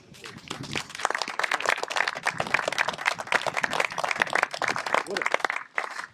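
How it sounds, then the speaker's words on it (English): Applause from mourners at a church memorial service, a busy wash of clapping that swells and holds, with some speech-like voices mixed into the crowd noise. "A big round of applause for the church"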